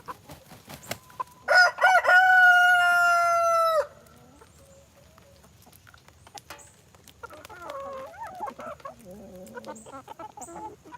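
Chickens on a farm, with a loud rooster crow near the start followed by quieter clucking and scattered farmyard noises.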